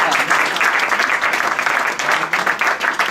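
Sustained applause from an audience at a Paris restaurant award evening, dense steady clapping filling the whole stretch at close range with no speech over it.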